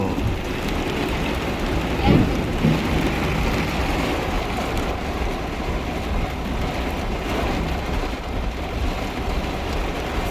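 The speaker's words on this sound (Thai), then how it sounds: "ฝนตกแรงมาก" Heavy rain from a summer storm pours down in a loud, constant roar, with brief rumbling thumps early on, close and enveloping throughout.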